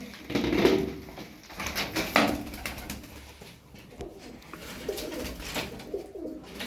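Pigeons, a flock of eleven tumbler pigeons in a loft, coo softly and repeatedly at close range, with fluttering and shuffling noises and a bit of background clatter.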